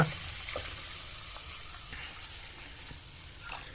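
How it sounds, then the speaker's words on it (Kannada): Soaked urad dal for masala dosa batter being washed with water, a close continuous wet swishing and splashing with faint irregular clinks and no speech. "ಈಗ ಮೊದಲನೇದಾಗಿ ನೀಟಾಗಿ ಈಗ ನೀರು ಹಾಕಿ ತೊಳ್ಕೊಳ್ಳೋಣ"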